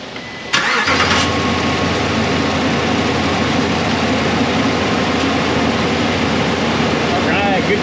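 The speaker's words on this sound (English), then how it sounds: "beginning engine starting sequence now" A Ram 1500 with a 5.7 V8 cold-starts: a brief cranking burst, then the engine catches and settles into a steady, loud, close idle rumble.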